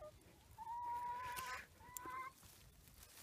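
A chicken clucks in two drawn-out calls, close and fairly clear over quiet background, with no talking.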